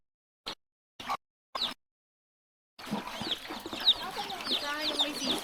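Pet ducks being fed, three short separate calls near the start, then after a pause a continuous busy stretch of quacking and chattering from several birds close by.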